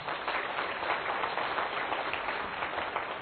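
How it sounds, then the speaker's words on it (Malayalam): A church congregation clapping hands during worship, a continuous, fairly soft wash of applause with no voices over it. "അത് കൈയുയർത്തി കൈയടിച്ചേ"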